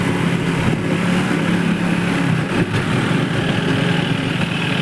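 Motorcycles and other road traffic moving behind a tractor trolley, a steady mid-pitched engine drone running throughout at close range, without any talk.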